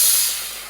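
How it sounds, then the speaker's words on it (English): Brake cleaner aerosol sprayed onto the interior drum brake parts of a Toyota truck, a brief loud hiss that starts strong and tapers off over less than a second. "give it a good spray down."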